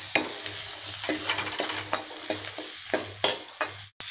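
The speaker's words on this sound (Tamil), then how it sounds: "கட் பண்ணி வச்சுருக்க சின்ன வெங்காயம் போட்டுக்கலாங்க. இப்போ இதெல்லாம் நல்லா வணக்கிக்குங்க." Small shallots sautéing in hot oil in a pan for brinjal bajji, a steady sizzle broken by repeated scraping stir strokes and one sharp clink near the end.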